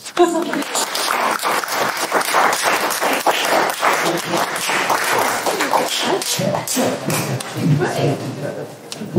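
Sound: audience round of applause

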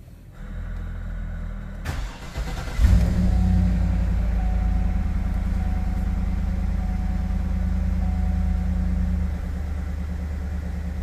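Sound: 2014 Yukon Denali 6.2L engine cold start

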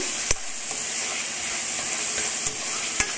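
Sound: frying with ginger garlic paste for tomato moringa curry

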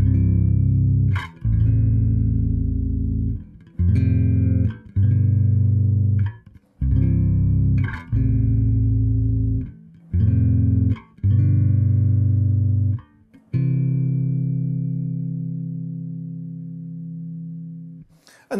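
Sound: bass guitar chords through Trace Elliot Elf combo

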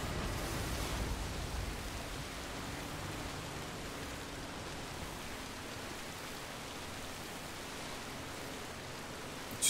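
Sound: rain in a video game

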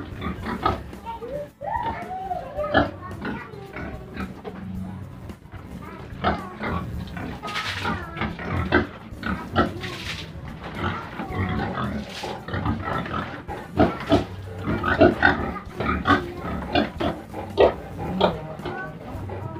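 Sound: pigs grunting and oinking on a farm

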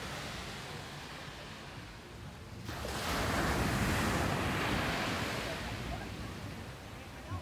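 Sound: sea waves on a beach below a lighthouse in Dakar

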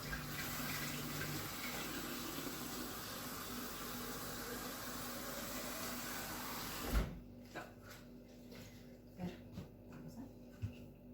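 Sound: water running from a tap

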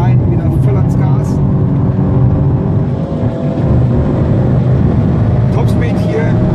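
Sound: Mercedes-AMG C 63 S Coupé accelerating at full throttle

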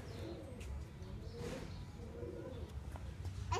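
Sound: pigeons cooing

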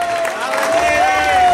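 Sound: applause from an audience

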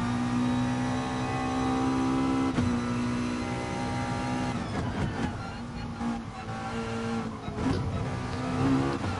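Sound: race car engine bouncing off the rev limiter in a racing video game

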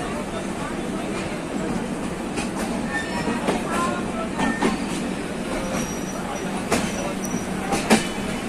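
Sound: two trains running side by side, Gondwana Express

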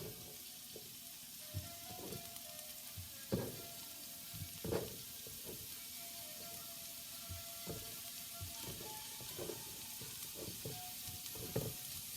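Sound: grapes caramelizing in frying pan

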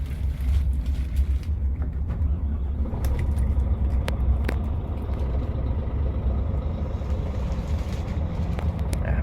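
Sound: truck engine starting

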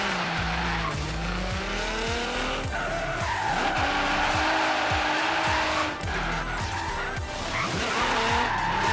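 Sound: car drifting with e-brake, Forza Horizon 3 video game

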